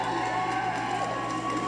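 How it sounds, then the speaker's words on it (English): A crowd cheers and shouts continuously outside as William and Kate's press secretary hands over the announcement of their baby boy, a dense, steady roar with no pause. "People cheering."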